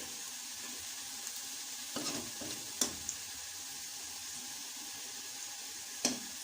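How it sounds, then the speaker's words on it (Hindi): Onions fry in a pan until light brown while dal mash makhni is being made. The sizzle is soft and steady, with a few faint clinks and scrapes scattered through it, and there is no talk. "प्याज को हमने लाइट ब्राउन कर लेना है।"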